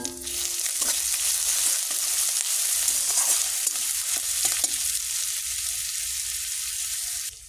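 Onion paste, ginger paste and spices being sautéed in a pan, with a steady loud sizzle throughout and faint scraping stir strokes, no voices.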